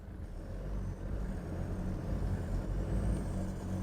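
A 4x4 vehicle pulling away in soft sand, a steady loud low engine rumble that builds slightly, close by with no talking.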